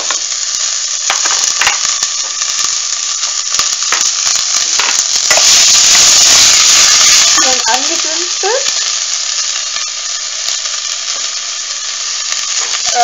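Onions fry in a hot pan, a steady loud sizzle throughout, with a surge of crackling as they go in and occasional scraping stirs.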